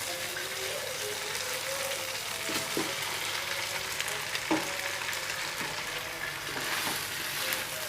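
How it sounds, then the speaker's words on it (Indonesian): Eel pieces stir-fried with Balinese spice paste in a pan, a steady bright sizzle with scraping stirs and small clinks throughout, close and fairly loud, no talking. "Kita aduk-aduk supaya bumbunya meresap"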